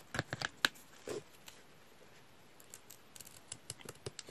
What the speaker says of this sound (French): on va couper notre ruban